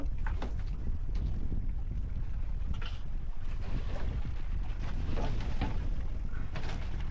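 Strong, constant wind from a low-pressure system buffeting the microphone with a deep rumble, along with the wash of open water on a fishing trip, loud and unbroken throughout.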